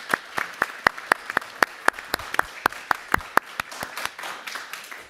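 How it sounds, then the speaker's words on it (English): An audience member at a conference session claps repeatedly in a steady rhythm, sharp individual claps close by and fairly loud, continuing alone for several seconds. "She went on and on and on and on and on clapping."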